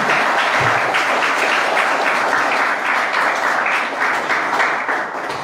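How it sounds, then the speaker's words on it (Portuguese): A church congregation gives sustained, dense applause at a service, filling the room at an even level from start to finish with no speech over it. "Dê uma salva de palmas para Jesus"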